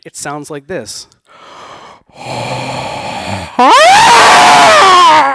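After a brief spoken line, a voice imitates the loud snoring of a sleep apnea sufferer: raspy snorting breaths building into a strained, gasping wheeze, close and loud.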